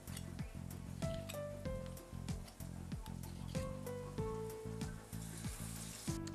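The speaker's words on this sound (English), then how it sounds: "we are working with hot oil, so you gotta be really careful when you're dipping them" Wadai dough fries in hot oil with a steady crackling sizzle and scattered pops, while a tonal hum with shifting steady pitches sits underneath throughout.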